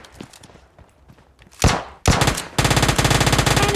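Gunfire from the mobile battle royale game PUBG Mobile Lite with an UZ submachine gun: scattered soft thuds give way to a loud shot, then sharp rapid automatic bursts with no voices.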